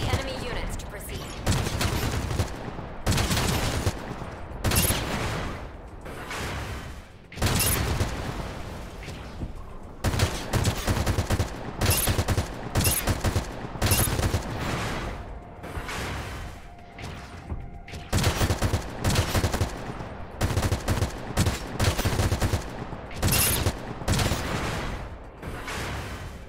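Mobile suit weapons in Gundam Evolution fire in loud repeated bursts of rapid shots, broken by short pauses and mechanical reload clunks, with a brief electronic tone midway and speech in places.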